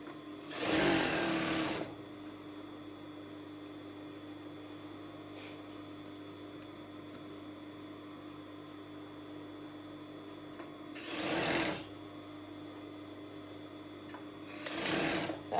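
An industrial sewing machine set to a long stitch runs a gathering seam on dress fabric in three short bursts, the first and last brief and close, separated by a quiet, steady background hum.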